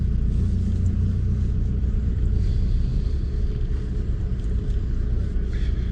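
Steady low rumble of a car engine idling and creeping during a reverse parking manoeuvre on a mock driving test, continuous and close with no sharp revs.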